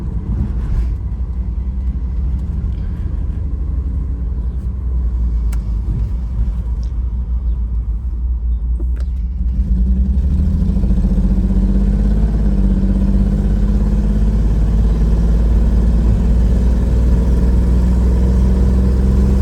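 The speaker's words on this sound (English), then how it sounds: "Got that racing exhaust. Woo! That thing purr." A 1994 BMW 325i with a racing exhaust idles in a low engine rumble, then rises midway into a louder, throaty growl that holds steady, with some rattling clatter early on.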